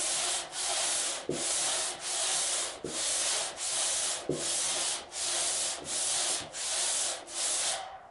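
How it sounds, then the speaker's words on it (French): Sanding block worked by hand over filler on a repaired car body panel, rhythmic back-and-forth rasping strokes about once every 0.7 seconds, close and steady, with no voices. "Une fois qu'on est au bon niveau, on va poncer délicatement"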